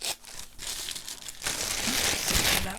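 Scissors snip through paper while crooked strips are cut for shabby pink Christmas bags, a close, steady crinkling and rustling that grows fuller and louder in the second half, with no talking.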